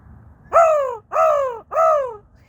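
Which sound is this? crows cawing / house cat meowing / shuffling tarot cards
crows cawing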